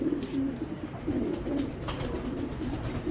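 A red checker racing pigeon hen coos steadily and close by, with low repeated throaty coos running through the whole stretch and no voices over them.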